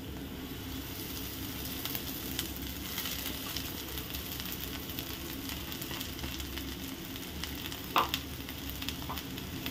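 Onion fried golden brown with freshly chopped fenugreek leaves added, sizzling in a pan with steady dense crackle and occasional stirring scrapes, close and continuous.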